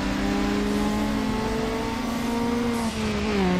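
A race car engine in Need for Speed Underground is held at high revs, giving a loud, steady, strained drone with harmonic whine that slowly drifts downward before a brief dip near the end.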